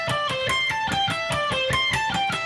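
Distorted electric guitar runs quick minor pentatonic note groups in a rapid, even stream of picked notes, loud and steady with no talking, from a song's solo.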